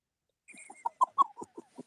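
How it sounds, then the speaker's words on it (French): Rooster crowing nearby, a loud series of short harsh calls that rise and break off in about a second and a half, with no talk over it. "Espèce de coq à la con."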